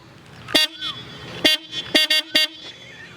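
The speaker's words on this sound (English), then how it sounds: "So horn check for the BMW 1200 GS Adventure." Horn of a 2016 BMW R 1200 GS Adventure motorcycle sounding five loud, close toots: a single blast, a pause, then a quick burst of three and one more, with no talking over them.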